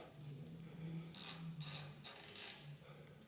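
A hand ratchet tightening roof rack T-nut bolts on a 6th-generation Toyota 4Runner, quiet rapid clicking bursts close by, several short runs of ratcheting separated by brief pauses.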